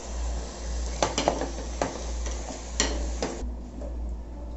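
Prawns sautéing in a pan for prawn biryani, with a steady low hiss and several sharp metallic clinks and scrapes of a spatula against the pan, loud and close, no talking.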